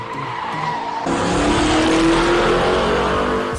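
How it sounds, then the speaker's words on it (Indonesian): A car comes up fast and brakes hard, its tires skidding and squealing in a loud rising screech over a roaring engine, with no voices. "tiba-tiba sebuah mobil datang dengan kecepatan penuh"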